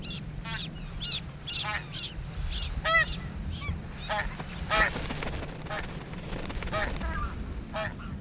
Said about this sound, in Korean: 어미의 도움을 기다리는 새끼의 소리가 더 거세진다